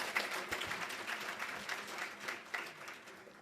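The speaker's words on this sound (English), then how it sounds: "Are we able to please give this distinguished panel a massive round of applause?" Applause breaks out for a distinguished panel at a CEOs' breakfast dialogue with the president, a steady sustained clatter of many hands from a seated audience, moderately loud and continuous with no voices on top.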